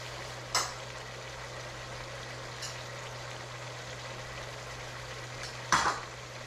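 Ground meat for chili browns in a pan with a faint, steady sizzle. Two brief scrapes of stirring stand out, and no one speaks.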